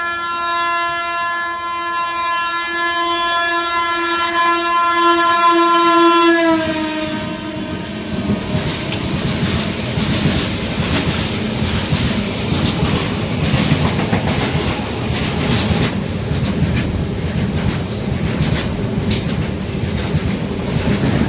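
A long train horn blares for several seconds at Ausa Road station, then gives way to the loud, steady rumble and rattle of cars as trains cross a goods train nearby.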